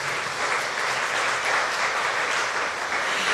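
Steady, dense applause from a church congregation fills the room at full volume, an unbroken wash of clapping with no voices standing out.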